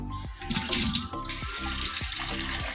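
Pot being washed under a running kitchen tap, a continuous close stream of water with splashing and periodic sweeping changes as the vessel is turned and rinsed.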